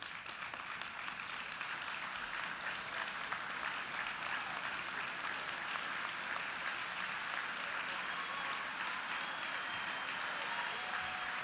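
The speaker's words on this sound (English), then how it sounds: "hold your applause" Commencement audience at Carthage College in 2011 applauds honorees, a broad, sustained roar of clapping from a large crowd that stays steady and somewhat distant for over eleven seconds.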